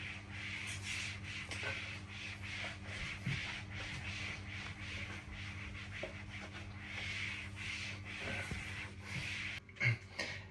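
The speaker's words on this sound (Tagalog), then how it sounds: "Ngayon, punas naman." A kitchen surface is wiped down with steady, rhythmic rubbing strokes, soft and close, repeating for about ten seconds with a brief knock near the end.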